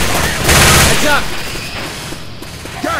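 Rapid loud gunfire in Left 4 Dead, a dense burst of shots up close followed by scattered quieter shots, with voices calling out over the shooting.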